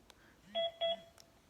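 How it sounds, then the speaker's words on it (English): A VictorReader Trekk handheld device gives two short, clear electronic beeps in quick succession as it powers off, close and isolated. "It does a little beep beep and it also vibrates."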